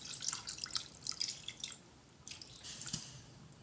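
A small splash of water poured into a simmering chicken curry, heard as faint, steady dripping and trickling with light liquid patter.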